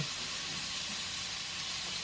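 Chicken fries in oil, sizzling steadily in a broad, even crackling hiss, close and constant with no voices.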